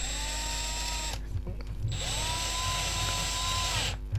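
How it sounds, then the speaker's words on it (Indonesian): A Milwaukee M12 2505-20 cordless 4-in-1 drill whines steadily while drilling at an angle, its motor running loud and close, stopping briefly, then spinning up again for a second run. "Dan ini posisinya jadi bisa ngebor miring gitu ya."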